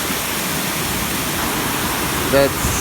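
Krupa waterfalls on the river Vrbas near Banja Luka, Bosnia and Herzegovina: a constant, loud broadband roar of falling water runs throughout, with a man's brief speech near the end.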